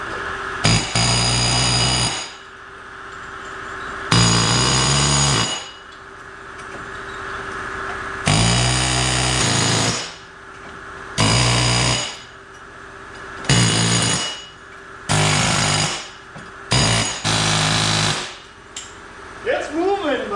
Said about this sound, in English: We're going to take the air hammer